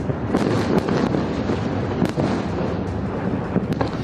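Bombs exploding in Gaza during Israeli strikes on Hamas positions, a dense, continuous rumble of blasts and crackling booms, loud and overlapping without a break.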